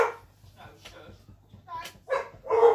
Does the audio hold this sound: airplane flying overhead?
no